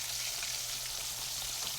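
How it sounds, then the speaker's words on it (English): Floured chicken wings frying in a frying pan give a steady, dense sizzle with constant crackle, close and fairly loud, with no talking. "you want to place it with the little wingy part down in the frying pan."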